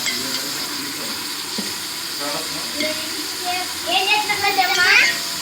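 Tomatoes fry and soften in a pan for tomato rice, a steady close sizzle with occasional stirring, while a voice talks over it toward the end.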